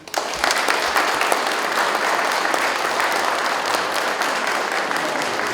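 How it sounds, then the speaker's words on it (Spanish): Sustained applause from a crowd at a wedding during a patronal festival in Tintay, Aymaraes, Apurímac, a dense even clapping that stays steady and full for several seconds. "Un fuerte aplauso."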